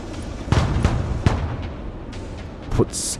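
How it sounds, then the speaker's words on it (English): Mortar artillery barrage in the video game Broken Arrow, several booming impacts spread unevenly over a few seconds over a rumbling background, followed by a brief high hiss at the end. "we're going to call in an artillery barrage with our mortar systems"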